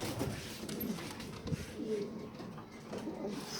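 Pigeons coo softly on a balcony, low repeated calls in a quiet, close setting with faint background noise.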